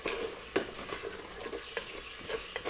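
Broth is stirred in a hot pot to deglaze the bottom for potato soup, with a soft sizzle under it and several distinct scrapes and knocks of the utensil against the pot.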